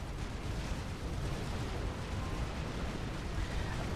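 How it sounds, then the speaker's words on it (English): Explosions rage in the real-time strategy game Supreme Commander Forged Alliance as tanks advance, forming a dense, continuous rumbling barrage of overlapping blasts at steady loudness. "Do you see all these explosions, man?"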